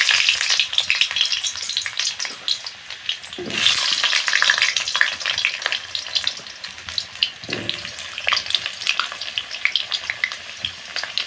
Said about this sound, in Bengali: এখানে তেল গরম হয়ে গেছে, আলুগুলোর করে নুন হলুদ দিয়ে লাল লাল করে ভেজে নেব।